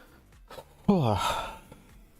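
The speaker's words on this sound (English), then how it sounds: "It's just heavy breathing down the phone." A single heavy exhale, like a sigh, from a close voice with a slightly muffled, phone-like quality, set between quiet stretches.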